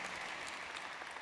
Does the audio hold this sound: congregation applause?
yes